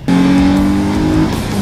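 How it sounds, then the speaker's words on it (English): Nissan G35 car engine driving and pulling hard, a loud steady drone with a rising tone that holds for about a second before easing off, close and alone with no talk. "So let's go ahead and take it out for a drive."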